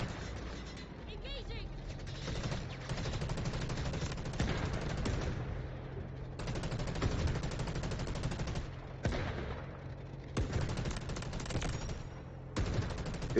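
Gunfire in the shooter game Delta Force during co-op play, with bursts of automatic shots and heavy rattling fire across the scene, loud and dense, with voices talking over parts of it.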